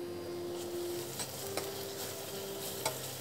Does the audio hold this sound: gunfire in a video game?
no